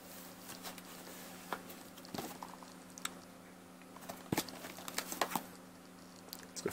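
Packaging being opened for an RCA Voyager 7-inch tablet keyboard, with close crinkling, tearing and tapping handling noises in irregular bursts over a quiet room hum, no talking.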